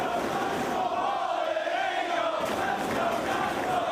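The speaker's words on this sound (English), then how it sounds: "And the crowd getting behind Christopher Daniels." A wrestling crowd in Dayton cheers for Christopher Daniels during an ROH match, a dense, continuous roar of many voices that stays loud and even from start to finish.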